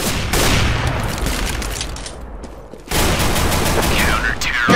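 Rapid gunfire in the video game CS:GO, loud dense bursts of shots that drop into a brief lull before another volley resumes.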